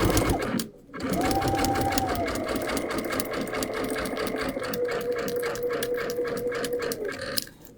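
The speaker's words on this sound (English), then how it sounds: "I'm going to leave my needle down on the right side because I'm going left." A Brother sewing machine fitted with a couching foot runs at a fast, steady stitching pace, pausing only briefly near the start and then continuing close and loud throughout.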